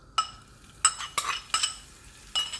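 Flour being stirred into melted butter for a roux, with five sharp metallic scrapes and clinks of a utensil against the pan over a quiet background.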